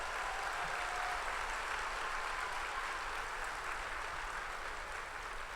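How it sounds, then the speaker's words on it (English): Audience applause fills a college commencement ceremony hall, a dense, even wash of many hands clapping, heard from a distance and sustained throughout without voices. "Please applaud."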